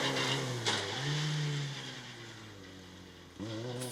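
Cosworth-powered Peugeot rally car engine at a forest rally stage, revving and shifting through gears at a distance with a steady mid-pitched drone and brief rises in pitch.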